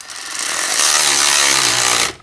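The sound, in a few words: tightening a 17 millimeter nut on a 1995 F150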